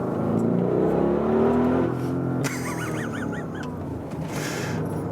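An Audi RSQ8 engine pulls hard under acceleration, a loud, close engine note that rises and then shifts pitch partway through.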